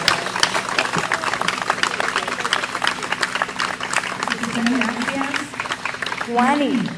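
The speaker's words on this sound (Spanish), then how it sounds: "aplausos" An audience applauds at a commemoration ceremony for the birth anniversary of Eugenio María de Hostos, with steady, dense clapping that runs throughout while voices talk over it.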